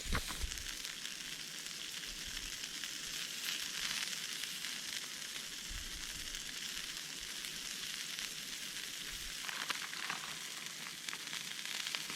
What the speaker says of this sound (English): I'm going to have to just carefully try and cook it right over the fire